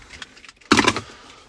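Key fobs for a 2017 Nissan Navara 2.3 dCi Tekna double cab pickup jangle in a brief burst of metallic clinks, close and fairly loud, after a quiet moment inside the cab.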